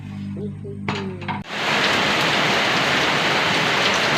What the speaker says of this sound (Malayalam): നല്ല മഴ, നല്ല മഴ കേട്ടാ.